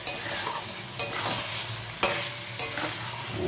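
Chicken pieces being sautéed in oil in a pan, a continuous sizzle broken by four sharp scraping stirs of a spoon at irregular intervals, close and clear with no voices.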